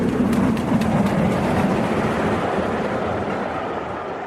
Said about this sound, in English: You saw the train was coming